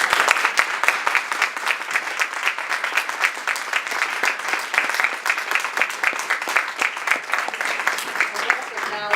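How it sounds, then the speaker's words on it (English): Sustained audience applause at a conference, dense clapping from a crowd that carries on steadily from start to finish with no talking over it. "I think we owe these people a big round of applause."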